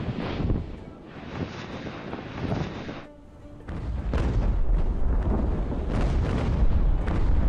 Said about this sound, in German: Das ist die Kanonenschüsse von da hinten, ne?